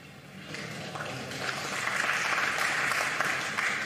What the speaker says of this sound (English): Well, the crowd were ready to applaud.